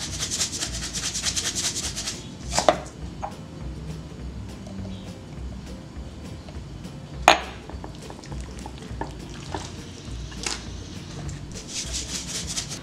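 A knife works through jalapeño chiles on a cutting board, with soft repeated scraping and rubbing strokes and a few sharper taps against the board, all close and quiet.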